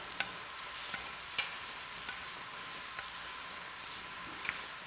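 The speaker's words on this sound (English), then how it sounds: "We're just going to give it a nice saute." Greens sauté in a pan with bacon, giving a soft, steady sizzle broken by a few sharp clicks as the food is stirred.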